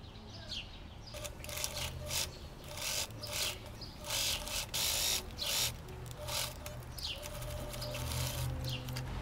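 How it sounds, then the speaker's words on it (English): Sewing machine stitching all around a trouser waistband on cigarette-style dress pants, a steady mechanical rasp in repeated bursts with brief pauses, close and moderately loud, with no talking. "And I'll sew all around."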